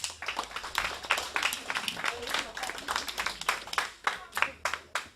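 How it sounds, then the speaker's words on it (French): Applause from a school audience for a quiz contestant during a radio-style game at Collège Norbert Casteret: scattered, moderately loud hand claps in an uneven rhythm, mixed with voices. "on t'applaudit Antoine."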